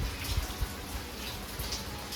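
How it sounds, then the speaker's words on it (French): Rain falls outside in a steady broadband patter, with heavier drops tapping close by now and then. "le bruit de la pluie était insupportable"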